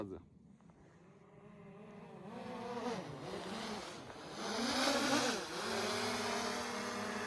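A fly buzzes steadily nearby in a winter forest, its drone wavering up and down in pitch and growing louder toward the end.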